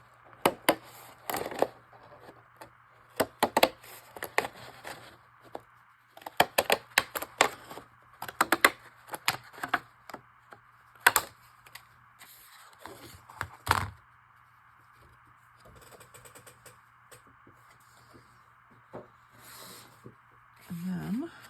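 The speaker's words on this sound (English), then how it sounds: "each time I move the scissors so that I can keep that looking continuous" Scissors cutting paper for the cover of a handmade Easter junk journal, close and crisp: clusters of quick snips come in bursts with pauses between them, while someone talks quietly.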